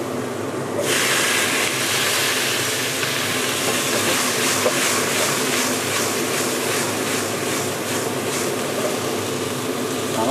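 Black pork with sacha sauce stir-fried in a hot wok, a loud, steady sizzling hiss that starts abruptly and runs unbroken, with faint rhythmic scraping strokes of the spatula.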